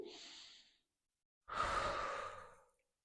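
Slow, audible breaths during a chest-opening stretch: a soft exhale trailing off, a pause, then a longer, fuller breath drawn close to the microphone.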